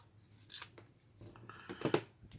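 Scissors snip through paper in a few short, close crisp cuts, two separate bursts of sharp clipping with quiet gaps between them.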